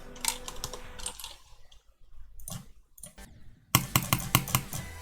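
Keyboard keys clicked while playing the Geometry Dash extreme demon level 'carcano', with a few close, crisp taps early on, a quieter stretch, then a rapid run of sharp clicks near the end.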